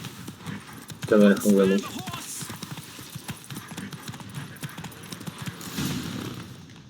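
Roach, the horse in The Witcher 3, gallops during a race, steady hoofbeats running under a man's speech and a short whinny-like tone near the start.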